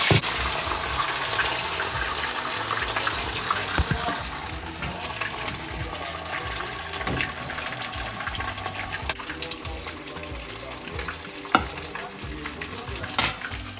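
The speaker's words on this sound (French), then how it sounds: "L'huile est en train de chauffer." Food frying in hot oil in a home kitchen pan, a steady crackling sizzle close up with occasional stirring clatter and a couple of sharp knocks near the end.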